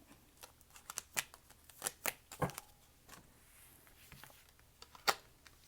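Tarot cards being shuffled and drawn, close and quiet, with a series of sharp riffling snaps and soft card slaps spaced irregularly, without speech.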